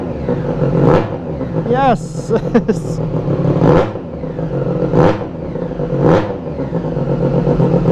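A Triumph Street Triple 765RS motorcycle fitted with an SC Project exhaust revs hard and loud close by, with several sharp throttle blips rising over a deep idle while someone talks over it.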